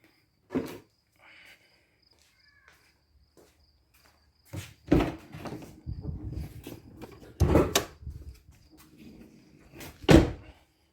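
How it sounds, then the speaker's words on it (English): The hood of a Ford Escape being opened, heard as a few scattered close clicks and heavier clunks from the latch and panel in a quiet space, with no talking. "First, let's open the hood."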